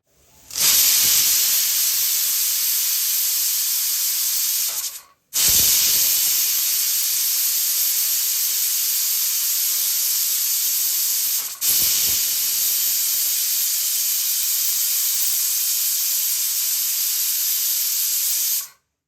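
A kitchen pressure cooker, cooking moong dal sambar, vents steam in three long, loud, steady hisses. Each lasts several seconds and is separated by brief silent breaks.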